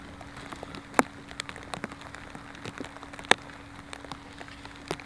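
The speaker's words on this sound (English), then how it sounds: "See, this has got to be annoying with this rain." Rain patters on the grounds of a disc golf course at the 2014 Eric C Yetter Champions Cup, a steady fine hiss broken by occasional sharper drops close by.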